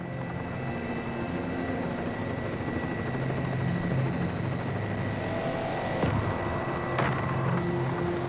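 Rescue helicopter in flight over La Réunion, heard from inside the cabin: a steady, loud rotor and engine drone with harmonic hum fills the whole stretch, with a couple of brief clanks or knocks near the end.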